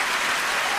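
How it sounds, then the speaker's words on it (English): Audience applause after a performance: a dense, even wash of many hands clapping, heard alone in a brief burst. "every single person clapping"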